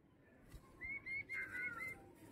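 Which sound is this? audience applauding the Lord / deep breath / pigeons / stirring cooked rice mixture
pigeons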